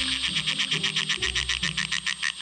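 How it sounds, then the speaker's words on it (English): A Perrin's tree frog gives a high-pitched cackle of rapid, evenly pulsed notes like maniacal laughter, loud and close, running without pause. "Perrin's tree frog makes a high-pitched cackle that's sometimes called maniacal laughter"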